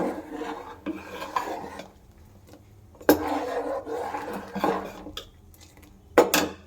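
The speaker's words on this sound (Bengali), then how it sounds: "দিয়ে ভালো করে হাতা দিয়ে আমি ঘুরিয়ে ঘুরিয়ে" A ladle scrapes and stirs rice payesh in a pot, with several rasping strokes separated by short pauses and a few sharper metallic knocks against the pot.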